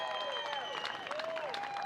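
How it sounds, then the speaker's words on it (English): A tennis crowd at the 2015 ATP Sacramento Challenger final applauds the ball kids with steady clapping for a couple of seconds, while sustained sliding tones ring over it. "How about a round of applause for them?"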